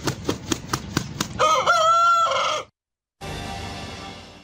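An Aseel rooster crows loudly and close by, a drawn-out cock-a-doodle-doo following a run of rhythmic beats, then a brief silence before a noisier stretch of background sound.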